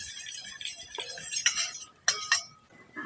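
A spoon clinks and scrapes against a glass or bowl while vinegar and water are mixed together, producing several sharp, close taps at irregular intervals with quiet stirring between them.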